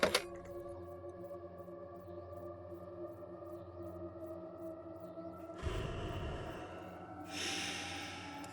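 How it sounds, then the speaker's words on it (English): Slow, heavy breathing comes through faintly over a steady low droning hum, with a couple of louder, rougher breaths near the end. "The heavy breathing and giggling freaks the babysitter out."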